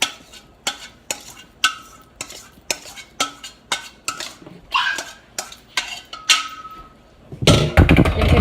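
A big spoon stirs mashed chickpeas in a bowl, making a steady series of close scraping, clacking strokes against the bowl, with a louder burst of clatter at the end.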